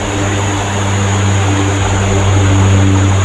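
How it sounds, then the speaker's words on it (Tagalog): An airplane drones steadily overhead with a loud, constant engine hum, a low tonal roar filling the whole stretch outdoors near houses. "parang may tunog ng eroplano"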